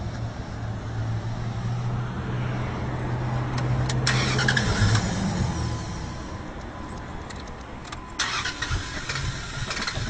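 A 4x4 truck engine cranks and fires with its fuel shut off, a sustained rough, close-up churning that surges midway and settles toward a shaky idle, with sharp clanks near the end.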